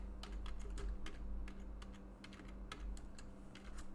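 Close, quiet typing on a computer keyboard as a search is entered, with fast, irregular key taps running steadily for a few seconds and no talking.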